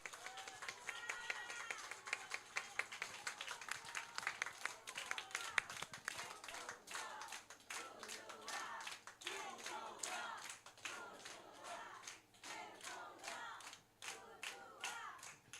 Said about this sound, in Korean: 자, 큰 박수 부탁드립니다.